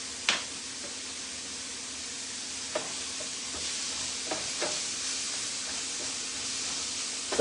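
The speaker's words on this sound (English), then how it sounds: "as these continue to brown and saute" Spiced vegetables seasoned with thyme sauté and brown in a pan, giving off a soft, continuous sizzle. Occasional sharp clicks and scrapes from a stirring utensil break through, with no one talking.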